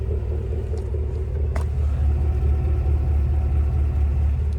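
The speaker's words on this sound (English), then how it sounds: "Love that dual exhaust." Deep, steady idling rumble from the dual exhaust of a 2024 GMC Yukon Denali Ultimate SUV, a loud, constant low growl heard close up, with no speech over it.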